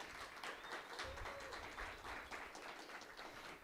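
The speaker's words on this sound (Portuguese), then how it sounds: "eu queria pedir uma salva de palmas para a Luísa e para o Murra." An audience applauds after talks at a professional event, a lively, continuous patter of many hands clapping that is moderately near and fairly quiet, with no voices over it.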